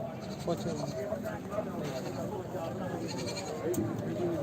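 Castrated male goats bleat among busy chatter, several calls rising over voices in a crowded outdoor setting, fairly faint and mixed.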